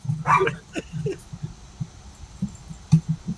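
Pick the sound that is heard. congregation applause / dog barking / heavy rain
dog barking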